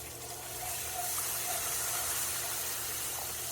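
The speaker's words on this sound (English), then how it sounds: "So we're going to add our milk." Milk pours steadily into a pot for chicken pot pie filling, a soft continuous liquid stream heard close and fairly quiet.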